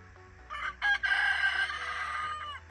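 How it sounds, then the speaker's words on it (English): A rooster crows once, loud and close, its long harsh call rising then holding before trailing off, with no talking. "There goes my rooster."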